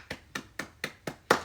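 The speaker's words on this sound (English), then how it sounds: "round of applause for my Philadelphia Eagles there" Six sharp, evenly spaced hand claps from a single person celebrating the Philadelphia Eagles, close and clear, the last clap loudest, with no talk.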